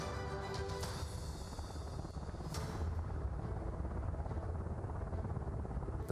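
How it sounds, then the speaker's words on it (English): An eHang passenger drone taxi flies overhead, its rotors making a faint, steady whirring drone throughout. "Ces drones taxis, c'est probablement l'avenir de la Chine."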